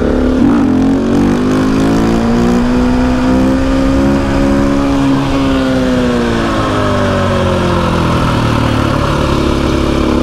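A KTM EXC 450 supermoto motorcycle engine revs up and accelerates, its pitch rising and then holding in one loud, continuous drone close by, with no talk.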